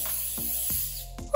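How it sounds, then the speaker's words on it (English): Cooking spray hisses in short bursts onto a baking pan for low-calorie protein rusks, three or four quick close sprays in a row. "So we really wanna make sure that they don't stick, so really give it a good spraying."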